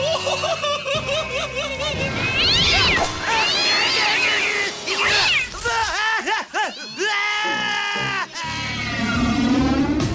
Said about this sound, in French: Prêt à sauver cet adorable petit chaton?